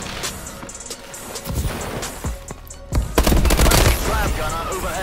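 Gunfire in Call of Duty: Advanced Warfare multiplayer on Xbox One: scattered shots building into dense automatic bursts that grow louder toward the end, with game effects around them.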